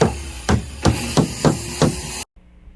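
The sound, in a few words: hammering 1.5-inch brick nails into 2x8 boards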